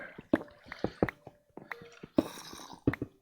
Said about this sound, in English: I hear water now as well.